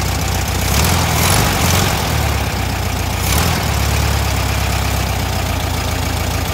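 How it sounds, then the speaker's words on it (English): An air-cooled Volkswagen engine idles loudly and close up with a steady, chugging rumble, its pace shifting slightly partway through as it settles to a new idle speed. "so it sounds like it just hit a new idle speed there"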